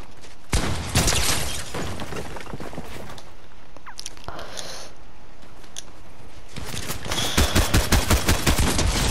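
Video game gunfire blasts at a car in bursts: a heavy volley early on, scattered single shots in the middle, then a rapid string of loud, evenly spaced shots at the end.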